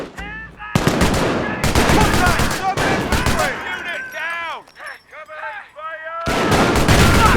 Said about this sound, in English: Get down. Incoming mortar.